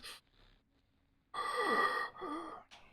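A creature in the horror video game Alan Wake 2 breathes heavily, with a faint breath, then a loud rasping drawn-out breath and a shorter one after it, under a quiet eerie background.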